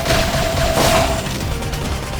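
Beam Barrage attack in Xenoblade Chronicles X: a loud, dense burst of rapid-fire blasts and booms lasting a couple of seconds, fading slightly toward the end.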